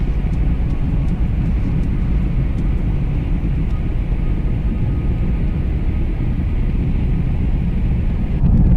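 Spaceship engine in Star Citizen during suborbital flight: a steady, loud, broad rumbling drone that holds without a break.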